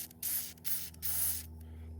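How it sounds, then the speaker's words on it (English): PB Blaster penetrating oil sprayed onto a stuck bolt on a boat: three short close aerosol bursts of hiss, separated by brief gaps, over a low steady hum. "Sprayed it again with some of the PB blaster."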